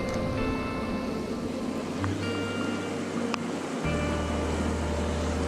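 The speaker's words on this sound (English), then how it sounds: "water's running a bit too fast here for my liking" Continuous rushing water noise, steady and fairly loud, with a low hum joining partway through; no voices.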